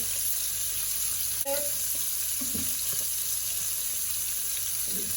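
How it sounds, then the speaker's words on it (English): A steady, loud sizzle of sardines frying in a pan, with a few light clinks and scrapes partway through. "they are all going in the same frying pan"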